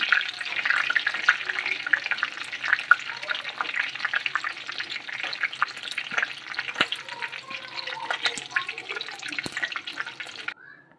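Mint leaves frying in hot oil inside a slotted ladle, giving a loud, continuous crackling sizzle that holds steady for about ten seconds before cutting off, with no voices.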